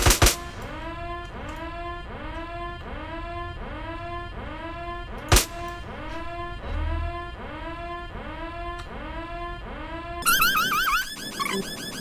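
A car alarm in GTA San Andreas whoops over and over in a steady rising-and-falling cycle. It is loud and near, broken by a couple of sharp clicks, and ends in a burst of other game noise.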